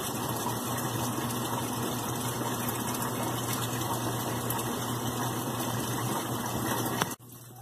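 Brastemp BWL11 washing machine filling with water, a steady close rushing gush with a low pump-like hum, unbroken until it cuts off abruptly near the end.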